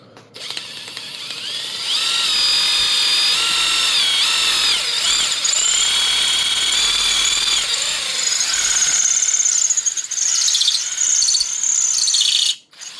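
A power drill bores dry through a part for a 1000 hp 46/47/48RE transmission rebuild. It gives a loud, continuous high-pitched grinding squeal with wavering pitch for about ten seconds, then cuts off.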